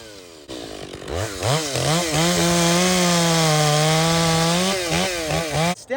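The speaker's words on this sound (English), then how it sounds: "It's a maple of some kind, but the old saw's getting through." A chainsaw cuts through a frozen, standing-dead maple tree, with a steady, loud engine drone that bogs as the chain bites, rising and falling in pitch through the cut, close by with no talking.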